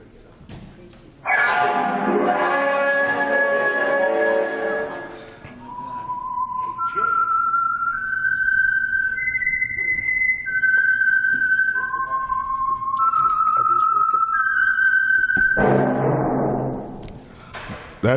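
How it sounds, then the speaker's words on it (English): The whistled theme signal of the Whistler radio program, sponsored by Signal Oil: a lone, clear melodic whistle of drawn-out rising and falling notes, bracketed by a man's speech before and after. "That whistle is your signal for the Signal Oil program, the Whistler."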